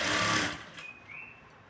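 Sewing machine stitching blouse lining cloth, a loud burst of running stitches that stops after a moment, leaving quieter handling noise and a brief high whine.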